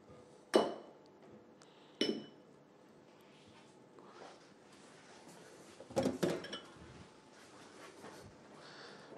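Semolina dough for Moroccan pistachio and honey sweets being mixed by hand in a bowl: a few sharp, close clinks against the bowl at irregular intervals, with soft rustling and scraping between them and no talking.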